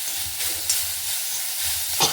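Chopped onions sizzle and fry in a pan with ginger-green chilli paste, with two clear stirring scrapes breaking through the steady crackle; nearby and moderately loud, no voices.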